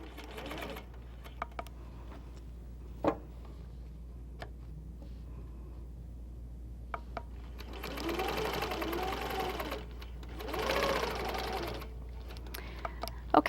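A quilting sewing machine stitches along a right-angle quilting ruler in two steady bursts, close and moderately loud, between quiet stretches with a few clicks and a low steady hum.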